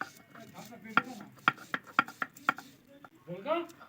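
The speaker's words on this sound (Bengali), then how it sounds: "আমি শিলনোড়াই বাটছি" Nuts for payesh being worked on a stone slab with a stone pestle (shil-nora), giving a series of sharp, evenly spaced knocks about twice a second, followed by a short voice at the end.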